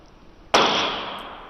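A thrown magnet strikes a target once with a sharp, loud metallic clang that rings out and slowly fades, preceded by quiet background.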